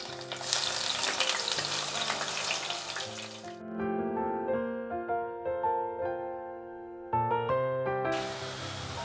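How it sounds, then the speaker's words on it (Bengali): Onion paste frying in oil for restaurant-style chicken masala, a loud hissing sizzle for the first few seconds before melodic music takes over and the frying fades beneath it. "পেঁয়াজের বাটাটা প্রথমে দিয়ে দিচ্ছি।"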